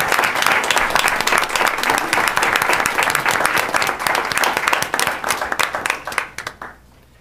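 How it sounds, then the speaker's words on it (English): A large audience at a school district board meeting applauds loudly and steadily, then the clapping thins out and fades away toward the end. "Let's give them a round of applause."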